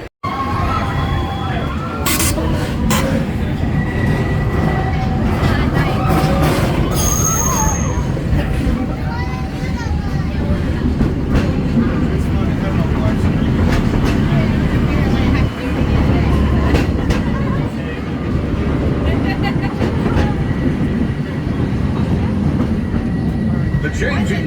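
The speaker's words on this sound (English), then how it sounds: "now we're hoping to catch a train, although we're probably not gonna get this one that's coming right now." A train pulling into a station at Disney's Magic Kingdom during Mickey's Very Merry Christmas Party, with a steady rumbling roar, rattling and a few bright horn or whistle tones over a dense crowd murmur.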